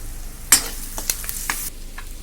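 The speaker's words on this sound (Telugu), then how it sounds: "ఆల్మోస్ట్ ఇది పచ్చిమిర్చి ఆనియన్ ఫ్రై అయిపోయాయండి" Green chillies and onion fry in a pan for Karnataka-style uggani, giving a soft continuous sizzle, with a sharp spatula scrape and several lighter stirring clicks.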